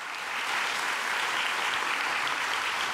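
Warm audience applause at an Indigenous Liberation Day gathering for the Indigenous Liberation movement, a dense, steady wash of many hands clapping throughout.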